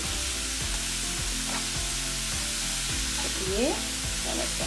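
Kale fries in a pan on the stove with a continuous close sizzle and a few light stirring scrapes, while faint background music plays.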